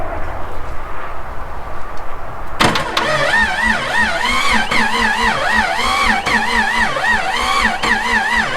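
A Jeep 4.0 engine converted to run on propane cranks over on its starter, a loud, steady, warbling churn that starts abruptly partway in and keeps spinning without catching.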